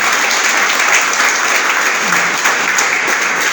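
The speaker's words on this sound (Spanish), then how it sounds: "¿Cuánto le da un aplauso al Señor?" Loud, dense applause from a church congregation praising the Lord, a steady, continuous roar of many hands clapping without pause.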